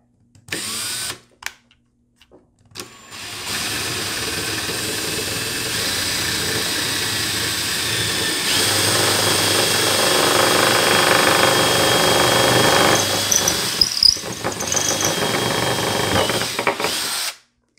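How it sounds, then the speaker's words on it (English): A power drill bores straight down into a split wooden chair leg, starting with brief bursts, then running in a long, loud, continuous grinding whine with a short pause near the end. "I'm going to drill straight down."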